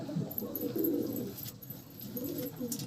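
Newly arrived Andhra pigeons cooing in a loft, with low rolling coos in two swells against a faint hissy background.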